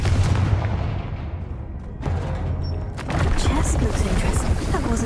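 A Confringo spell explodes in the Hogwarts Legacy video game, giving heavy booming blasts and rumbling impacts with a voice speaking over the effects.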